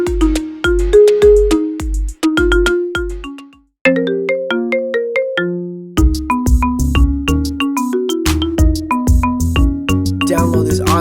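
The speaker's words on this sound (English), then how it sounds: "Download this dope, awesome ringtone that is sure to get you moving" A song ringtone plays loud and clear, a melodic electronic tune of plucked, bell-like notes over punchy bass hits, with a brief pause partway through before the melody resumes.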